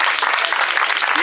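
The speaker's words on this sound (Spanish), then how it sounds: "un aplauso sobre todo y ante todo a Julián José" An audience claps loudly at an award ceremony, a dense, continuous burst of applause filling the whole moment, with a voice faintly audible underneath.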